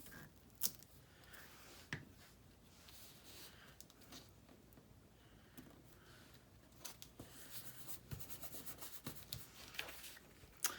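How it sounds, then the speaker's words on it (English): Big scissors snipping a small piece of paper for a craft project, giving soft, intermittent rubbing and cutting snips at close range with brief sharper clicks, no talk. "Probably shouldn't be using these big scissors either when I'm cutting this little thing"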